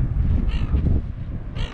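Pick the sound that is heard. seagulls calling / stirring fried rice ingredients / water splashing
seagulls calling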